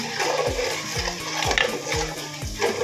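A jaggery mixture cooks slowly in a pot while being stirred, with repeated scraping strokes in a steady rhythm over a soft bubbling background and no talking.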